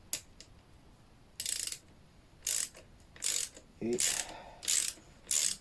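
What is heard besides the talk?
screwing a part in after applying thread-locker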